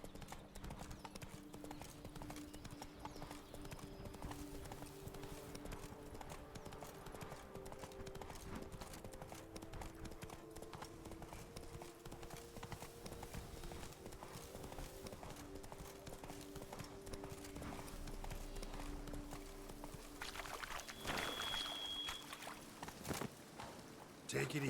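Roach the horse gallops in The Witcher 3 video game, hooves clip-clopping in a fast, steady rhythm under continuous game music and ambience.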